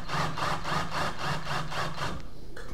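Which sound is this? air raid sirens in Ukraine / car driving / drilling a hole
drilling a hole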